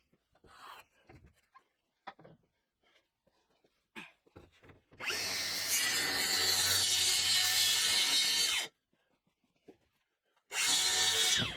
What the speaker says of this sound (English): I'm just going to draw out and make a rough cut, handheld with the circular saw